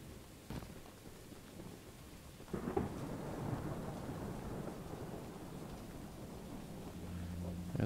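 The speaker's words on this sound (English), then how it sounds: "why is it raining inside?" Steady rain pours throughout an indoor scene in the Choo Choo Charles video game, with a rolling thunder crack breaking in partway and heavy rumble lingering beneath the hiss; no voices.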